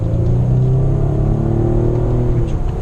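Nissan Altima 3.5 SL with a V6 engine and CVT accelerating hard under full throttle from inside the cabin, a loud, steady engine drone with a rising tone and heavy low rumble throughout.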